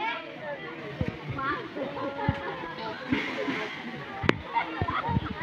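A small stream flows at a hilltop temple, with steady water rushing and light splashing, people chattering and children's voices mixed throughout.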